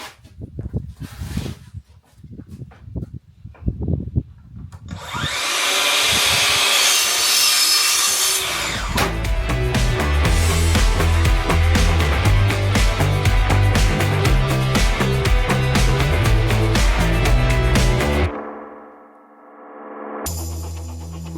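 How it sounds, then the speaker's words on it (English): Jigsaw fitted with a coping foot cutting an opening in a wooden porch ceiling board: a loud steady buzzing cut running for several seconds, then stopping, after some lighter knocks and handling noise at the start. "My jigsaw still had the Collins coping foot base attached to it, so I used it like I was coping crown to cut out for the ceiling box"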